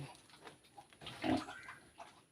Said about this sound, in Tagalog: Ito na yung aking guys, yung mga aking baboy.